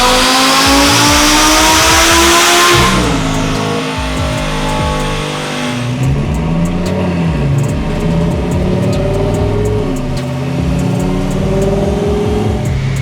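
A twin-turbo Audi R8 Spyder runs hard on an indoor dyno, its engine roaring loudly as it climbs through the revs, then dropping to a lower, rumbling drone with rapid pops and crackles.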